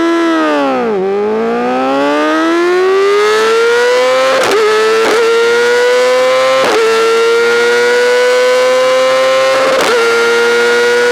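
A 2020 Yamaha R6 motorcycle engine revs hard and high, its howling whine dipping then climbing steadily in pitch, broken by several sharp shift cuts, very loud and close with no talking.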